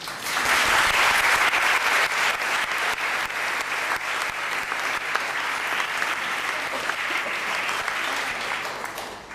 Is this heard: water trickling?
no